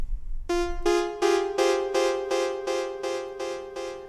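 A synth melody line from an electronic track repeats a single bright plucked note in an even pulse about every third of a second, rich in harmonics, close and alone.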